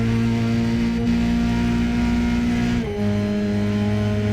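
Race cars in a racing league video game roar along in a sustained, loud engine drone, with a brief dip in pitch as a car lifts off the throttle before it climbs again. No one talks.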